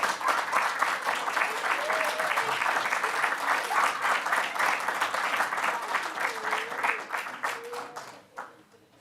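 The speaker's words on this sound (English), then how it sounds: "I appreciate your claps." Audience applause at a school board meeting, a dense sustained crowd clapping that fills the room for several seconds before tapering off, with faint voices mixed in.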